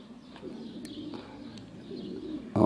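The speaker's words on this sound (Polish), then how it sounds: "Manfred, a tu ten gołąb, który sobie tutaj upodobał tą posesję, chodzi sobie" Pigeon cooing at a racing pigeon loft during birds' return, soft low coos repeating at a moderate distance, with a few faint chirps and a brief louder knock at the very end.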